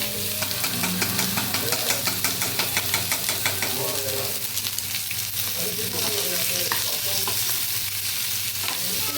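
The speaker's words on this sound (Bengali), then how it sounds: "এরপর আমি এগুলোকে একটু ফ্রাই করবো।" Mixed vegetables fry and sizzle steadily in a pan on a home kitchen stove, with a constant hiss and repeated scraping stirs throughout; a low hum runs underneath.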